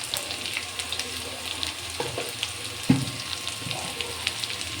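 Thinly sliced potatoes sizzle steadily in a pan, a soft continuous crackle broken by a few clinks and scrapes as they are stirred.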